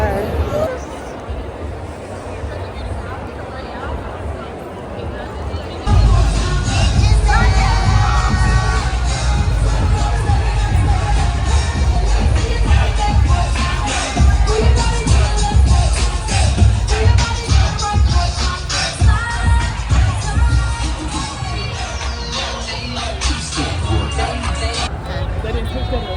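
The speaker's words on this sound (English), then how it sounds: "The crowd is crazy here." A large crowd packs the convention center at Essence Fest in New Orleans, a dense, loud hubbub of chatter, shouts and scattered cheers that swells after a quieter start, with nearby voices talking over it.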